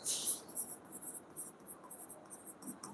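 Pen or chalk strokes rapidly writing out maths examples in a lesson, a close, steady series of short scratchy strokes with brief pauses, fairly quiet.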